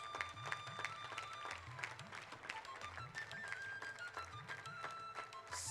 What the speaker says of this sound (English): Can we give a very, very big round of applause?